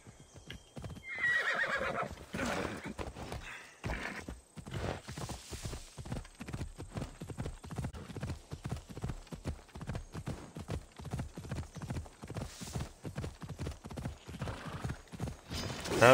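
A horse being ridden in the ancient Greek world of Assassin's Creed Odyssey, steady rhythmic hoofbeats clopping close by for the whole stretch, with a whinny near the start and snorting breaths.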